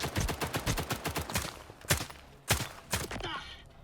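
Rifle shots from the unique Popados rifle, an SVD alternative, in S.T.A.L.K.E.R. 2, fired at close range: a rapid burst of sharp cracks, then several heavier separate reports with brief echoing tails.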